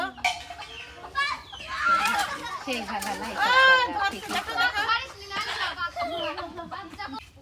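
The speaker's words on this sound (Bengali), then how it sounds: "শেষ পর্যন্ত ফাইনালি আমরা একটা মুরগি ধরতে পারলাম" Chickens cluck and squawk in a Bangladeshi village yard, with agitated bursts of calls rising and falling close by while children shout and talk over them.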